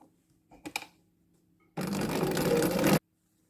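A sewing machine stitches quilt binding on a star block table topper, a faint click first, then a single continuous whirring run of about a second before stopping abruptly.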